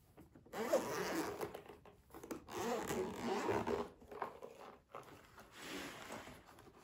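A zipper on a rigid carrying case for a TOPDON JS2000 12V 2000A car jump starter is pulled open in several close, scratchy runs with brief pauses between them.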